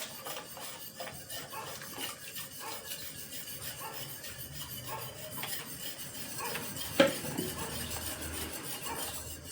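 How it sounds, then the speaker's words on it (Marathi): Rice flour tipped into a pot and stirred for rice papad batter, with steady scraping and clinking of a utensil against the metal pot and one sharper knock near the end; no talking. "अशा प्रकारे मी याच्यामध्ये पीठ टाकून घेतोय सगळं"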